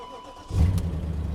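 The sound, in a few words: BMW E39/E60 M5 engine starting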